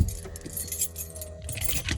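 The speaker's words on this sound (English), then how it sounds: "let me pull my keys out" A bunch of keys jangles and clinks steadily for about two seconds as it is pulled out inside a car, with a faint low engine or road rumble underneath.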